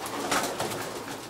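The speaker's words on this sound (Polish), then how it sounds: "To jest na przykład gołąb." A pigeon cooing nearby in soft, repeated rolling coos over a steady outdoor background.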